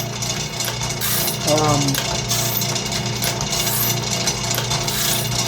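A sawmill band blade sharpener steadily feeds and grinds the blade teeth, a continuous mechanical clatter and hum with a brief rising squeal partway through.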